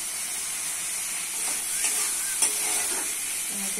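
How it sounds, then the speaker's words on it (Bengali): Chicken sautés in a spice masala with tomato in a pan, a close, constant hissing sizzle broken by a few light spatula scrapes and taps. "মশলা কষা হয়ে গেছে, চিকেন দিচ্ছি, ভালো করে মশলাটা কষে নিতে হবে।"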